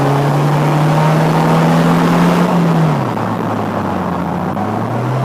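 A Polaris Slingshot SL engine is revved to 3000 rpm: a loud, steady, close-up roar holds for over two seconds, then the revs drop and settle back into a lower idle.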